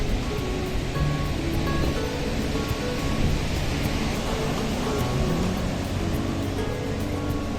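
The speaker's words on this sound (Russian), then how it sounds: "Да, волны шикарные, конечно" Sea waves breaking on the beach at Nha Trang, Vietnam, beside a busy seaside promenade, a steady broadband roar of surf with wind noise, continuous and fairly loud throughout with no talking.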